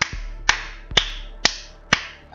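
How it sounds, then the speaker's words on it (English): Five sharp, evenly spaced hand claps ring out about half a second apart, each loud and close with a short decay, alone without talk. "I should clap slower, shouldn't I?"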